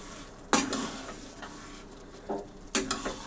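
Raw tomato and fresh coriander are stirred into a nearly dry loitta fish curry in a pan. Two sharp scraping strokes and a few softer ones sound over a low sizzle.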